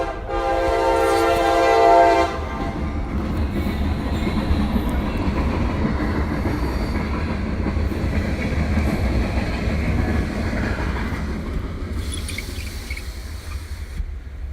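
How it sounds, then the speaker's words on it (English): A train passes close by, a loud continuous rumble and clatter of rolling wagons that begins with a horn blast and carries on steadily for the whole stretch. "Sorry, I live next to a train."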